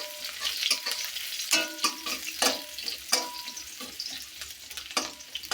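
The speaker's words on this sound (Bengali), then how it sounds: "সেটা আমি এখন ভাজা ভাজা করবো।" Chopped onion fries in hot oil, a steady close sizzle broken by sharper crackles and the scrape of stirring, with no voices.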